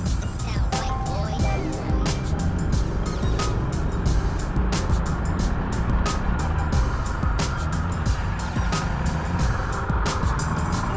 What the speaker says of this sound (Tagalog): Nag-build up na yung traffic.